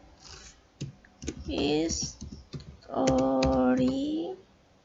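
Keys clicked on a computer keyboard, including the Enter key, while working in ABSS Accounting V25 software; a few sharp, separate taps sound close by between stretches of a person talking.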